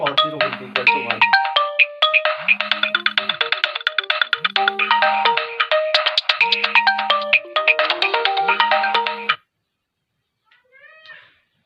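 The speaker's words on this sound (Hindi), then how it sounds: "बीच में फोन आया था" A mobile phone ringtone rings out loudly during a maths class, a bright repeating melody with a low pulsing buzz underneath, then stops abruptly, followed by a brief faint chirp.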